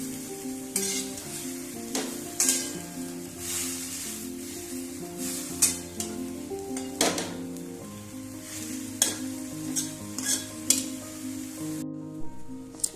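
Wild grass greens sautéed in a pan, with repeated stirring scrapes and a steady soft sizzle running throughout, moderately close with no talking.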